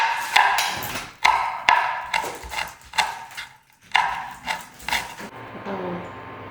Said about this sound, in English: Now we're just going to mince up some garlic and Thai chili peppers.